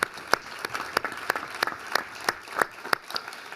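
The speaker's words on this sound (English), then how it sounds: "give a round of applause to our 2 major grower sponsors, Merck and Alberta Health Services" Audience applause at a healthcare innovation academy event honoring major sponsors: a small crowd claps in a loose rhythm, with distinct sharp individual claps standing out clearly and fairly close.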